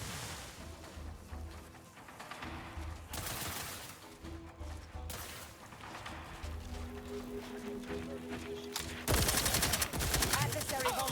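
Sustained gunfire in the video game The Outer Worlds 2, dense rapid bursts and a steady fusillade throughout, growing louder and sharper near the end, with a voice talking intermittently underneath.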